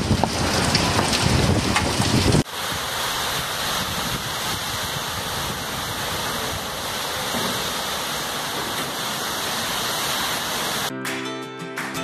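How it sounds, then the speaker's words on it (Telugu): Wind-driven hail and rain pour down steadily in Mangalagiri near Tirupati, a loud, continuous broadband roar after a brief louder burst at the start, with no voices. "తిరుపతి మంగళగిరిలో గాలితో కూడిన వడగళ్ల వర్షం కురిసింది"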